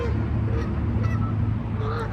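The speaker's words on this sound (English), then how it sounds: "That goose over there has no chill." A goose honks in a Taco Bell parking lot, a few short nasal calls heard at moderate distance over steady low traffic and engine rumble.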